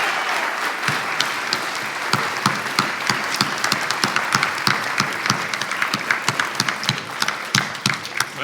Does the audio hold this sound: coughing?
no